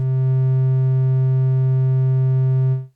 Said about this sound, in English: the graph is smoothed out and we now hear a clean triangle wave